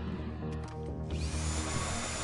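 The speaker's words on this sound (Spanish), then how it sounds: "Voy a seguir taladrando por otro lado." A continuous whining drill bores during a heist in GTA Online, a steady high-pitched mechanical grind that rises slightly in intensity toward the end, with no voices.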